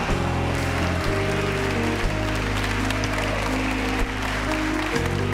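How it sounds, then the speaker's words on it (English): A church congregation gives a hand clap of praise, a broad, busy clapping sound layered over sustained keyboard or organ chords that shift pitch a few times through the few seconds. "Give God a hand clap of praise right there."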